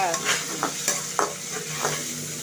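Tomatoes sautéing in a pan with a steady sizzle, broken by several scraping strokes as they are stirred, close and fairly loud with no talk.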